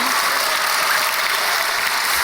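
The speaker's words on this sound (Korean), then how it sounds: "이렇게 강사를 열심히 막 박수해주고" A church congregation claps for a visiting speaker at a night prayer meeting, giving a dense, steady roar of applause that fills the room from start to finish with no voices over it.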